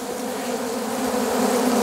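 Dense, continuous buzzing of many honeybees during transfer into a standard hive, a loud steady drone that swells slightly toward the end.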